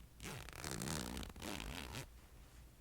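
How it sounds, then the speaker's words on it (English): A zipper on a bag is run open and closed in a few quick, close-up zips, soft and crisp, with no voices. "give you a few zips on that one."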